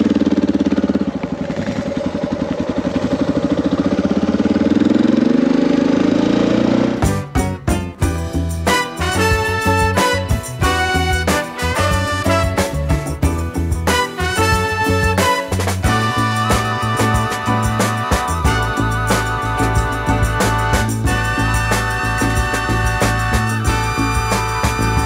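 Motorcycle ridden along an unsealed outback road in Australia, steady engine drone at close range, shifting from wind-buffeted rumble to a harsher buzzing hum that continues throughout.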